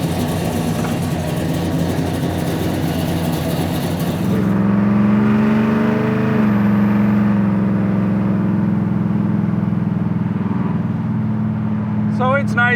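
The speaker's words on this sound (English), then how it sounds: "So this is just the irregular exhaust on it." A 1969 Chevelle SS 396, boosted to 640 hp, rumbles with an irregular exhaust while driving, a loud low engine drone that shifts pitch midway as it revs, heard from inside the car.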